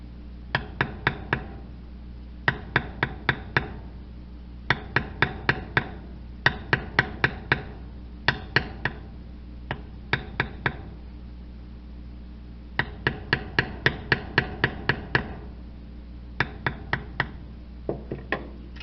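A mallet taps a beveling tool over a leather coaster in quick close clusters of sharp knocks, with brief pauses between the runs and steady low background hum underneath.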